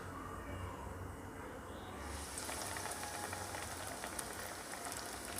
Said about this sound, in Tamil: இப்போ வாங்க நம்ம ஒரு மீடியம் ஹீட்டில் இருக்கிற எண்ணெயில் வந்து இது போட்டு நல்லா பொரித்து எடுத்துடலாம்.